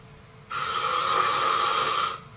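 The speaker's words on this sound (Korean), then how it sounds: "심한 코골이 소리를 내더니 이내 숨을 멈췄다." One long, heavy snore from a person with breathing trouble in sleep rasps for nearly two seconds, loud and close, then fades into quiet breathing.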